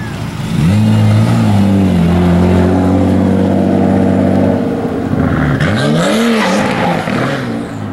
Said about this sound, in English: car's not running right.